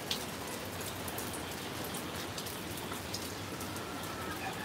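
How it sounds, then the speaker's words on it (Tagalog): Heavy rain falling in the Bicol region of the Philippines during a long spell of bad weather, a steady dense patter of drops striking surfaces, close and continuous without letup. "1 month raining here in the Philippines, Bicol region. Very bad weather."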